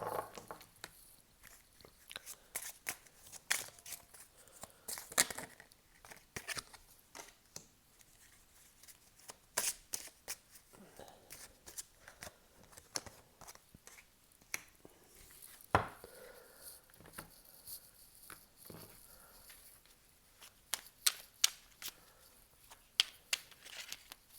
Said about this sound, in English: I'm going to pull some oracle cards as well